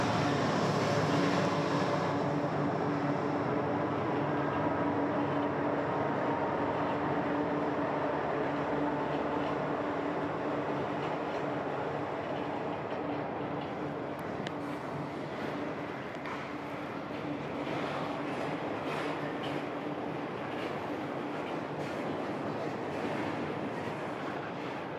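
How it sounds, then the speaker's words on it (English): A slow freight train rolls past a railroad crossing in North Alabama near Wheeler Lake, a long continuous rumble with rattling cars and metallic squeals that holds steady for the whole stretch, heard from nearby. "We got the train crossing. Slow train normally too here."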